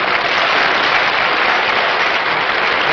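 Studio audience at a television reunion show for the crew of the "I'll Get By" breaks into sustained, dense applause, loud and steady throughout with no voices over it.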